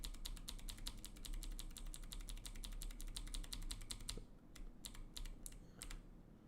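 Rapid clicking keystrokes on a computer keyboard, steady and close for about four seconds before thinning into a few scattered taps over a low background hum.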